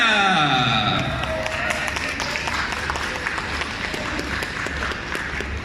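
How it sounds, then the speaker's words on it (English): A conference audience at Japan Con in Brussels bursts into sustained applause and cheering for a manga artist taking the stage, a dense wash of many hands that holds steady throughout. "A big round of applause, Mr. Maeda!"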